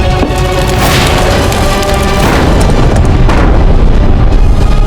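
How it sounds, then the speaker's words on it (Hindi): Cannons fire cannonballs in a dramatized battle against the Mughals, a loud, sustained roar of booming blasts with repeated heavy detonations rolling one into the next. "और वे मुगलों पे गोले बरसाते गए।"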